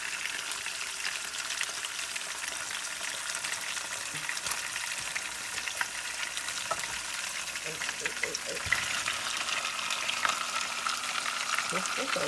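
Oil frying steadily for a Haitian Sunday dinner, likely fish, with a continuous close sizzle and crackle. Occasional stirring clinks and faint voices sit underneath.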